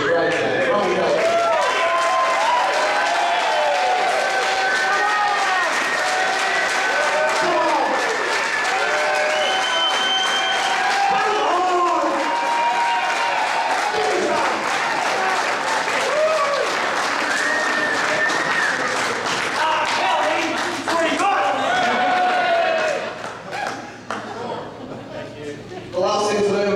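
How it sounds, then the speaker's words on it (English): Long, loud applause with cheering from an audience at a billiards final, dense sustained clapping and shouts with chatter underneath, thinning near the end. "let's just have one massive round of applause and cheer for the great man, Ronnie."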